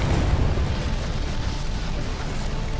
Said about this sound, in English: there are a lot of kinetic barrages getting fired here